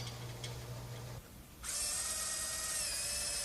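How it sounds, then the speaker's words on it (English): An electric drill bores a hole through a wooden boat part held over a waste block, its steady high motor whine starting abruptly after a short quiet gap and running loud and close. "Drill the hole for the painter now and over a waste block so that the wood doesn't split out on the exit side."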